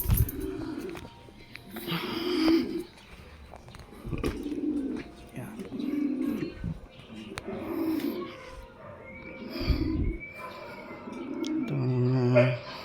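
Pigeons or doves about nine to ten months old coo in repeated low, soft phrases roughly every couple of seconds, with a person talking intermittently over and between the calls.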